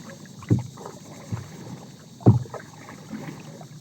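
Two rowboat or canoe paddle strokes pull through the water about two seconds apart. Each is a close, splashy surge over a faint wind hiss.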